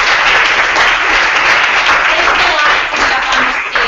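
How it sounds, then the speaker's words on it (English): A crowd applauds a group of presenters at the close of a food startup showcase, sustained loud clapping from many people with a slight dip near the end, a faint voice or two mixed in. "Let's give everybody who presented a big round of applause."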